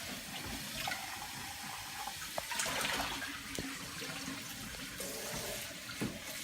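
Tap water runs steadily into a sink while cups are rinsed out, a continuous splashing stream with a few small clinks and knocks of crockery, alone with no talking.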